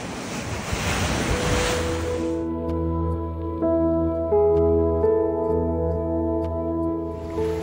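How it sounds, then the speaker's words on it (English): Wind-driven waves on the Lake Superior shoreline on Isle Royale surge in a loud, rushing wash, which then fades into steady wind noise with a faint tonal hum beneath. "Walking along Lake Superior today, and the wind really has the lake kicked up here."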